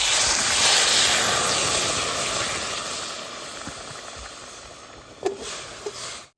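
Jaggery and water hit a hot pan with a loud steady hiss that slowly fades, then a few light clinks near the end.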